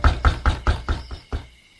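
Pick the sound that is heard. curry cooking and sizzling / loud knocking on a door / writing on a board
loud knocking on a door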